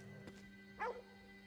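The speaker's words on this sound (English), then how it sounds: "It's a dog. What's he barking at?" A single dog in Ghostwire: Tokyo lets out a short distant bark with a slight yip, faint over a steady game background hum.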